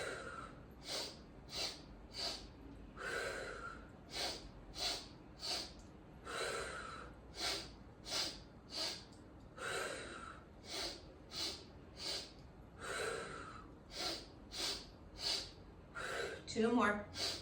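Audible yoga breathing during sun salutations: a close, regular series of quick sharp inhales and exhales, with a few longer breaths between, and a brief rustle at the end.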